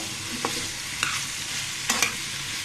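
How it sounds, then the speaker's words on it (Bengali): Chicken with turmeric and salt fries over a high flame on a stove, soft continuous sizzling with a few sharp spatula scrapes spaced through it, close and with no voices. "চুলার আগুনটা বাড়িয়ে, এটাকে আমি ভেজে নেব"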